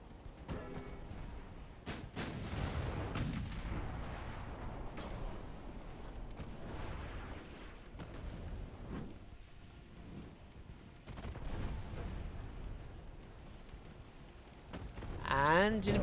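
Naval guns fire in a battle in the warship game Ultimate Admiral: Dreadnoughts, heard as a scattered series of heavy booming shots with rumbling tails over a continuous low roar, some blasts sharper and nearer than others.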